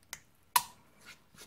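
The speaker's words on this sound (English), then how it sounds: "there's a metal ring, look, just a little circlet to retain it, ping that out" A small metal retaining circlet pinged out of a Ford Courier front brake caliper, one sharp bright metallic snap after a faint tick, then soft handling rustles.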